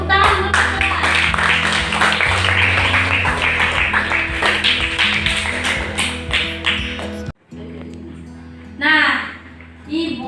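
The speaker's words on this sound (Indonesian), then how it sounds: "tepuk tangan untuk Putra" A classroom of students applauding a classmate who received a gift from the teacher, steady loud clapping for several seconds that stops abruptly, followed by a teacher's voice speaking.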